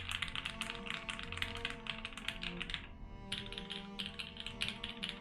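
A rebuilt Class1800 mechanical keyboard is typed on in rapid, close, dense bursts of deep, boomy key clacks, with a brief pause before the rhythm resumes.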